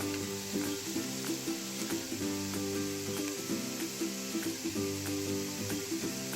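Chopped carrot and vegetables sizzle steadily in a hot pan, with rhythmic scraping and stirring knocks repeating throughout, for vegan momo filling; close and continuous with no talk.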